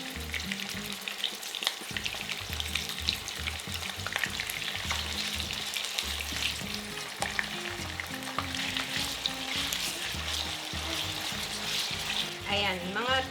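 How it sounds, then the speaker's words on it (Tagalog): Pork goes into a pan with garlic and sautés in steady close sizzling, with frequent stirring clatter and a brief splash near the end, while a voice talks quietly underneath. "Then yung ating pork, lalagay natin. Parang ipiprito lang natin ng konti."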